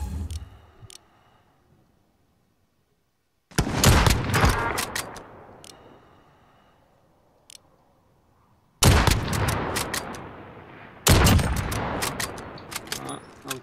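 Bursts of rapid gunfire from Call of Duty Warzone, loud and close, arrive in three separate volleys with silences and quieter gaps between them, with players talking in the background.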